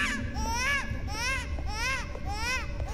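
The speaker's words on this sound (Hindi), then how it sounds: "भाई ये कहाँ से आ रही है यार रोने की आवाज़?" Infant crying from baby Rose in the game Resident Evil Village, repeated wavering wails in a steady rhythm, fairly loud and continuous over a rumbling game ambience.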